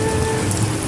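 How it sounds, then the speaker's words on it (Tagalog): Heavy rain pours steadily onto surfaces, a dense continuous hiss with a faint low rumble beneath, heard up close with no voices. "lakas ng ulan"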